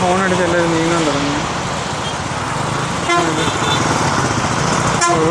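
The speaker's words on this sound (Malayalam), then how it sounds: "അതിൻ്റെ ഉള്ളിൽ ഹോൺ അടിച്ച് എല്ലാവരും നീങ്ങാൻ തുടങ്ങി." Vehicle horns blare at a traffic signal on a busy road in Tamil Nadu, heard from a scooter amid idling and moving traffic, with several overlapping toots over a constant roar of engines and road noise.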